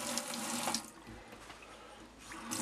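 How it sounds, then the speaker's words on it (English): Pressure water tap running into the galley sink of a Canadian Sailcraft Traditional 36 sailboat, a close, steady splashing stream that dips briefly mid-flow before strengthening again. "Hot and cold pressure water."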